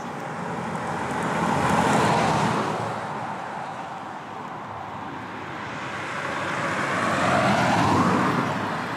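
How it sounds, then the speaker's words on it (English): Road traffic comes around a tight bend, where two cars swell in and fade as they pass close by in a broad roaring wash. "the traffic's coming around that corner and hugging it."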